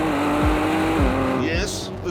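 A Ford GT sports car's twin-turbocharged V6 engine revs hard and continuously close by, its pitch climbing and dropping through gear changes, loud and droning.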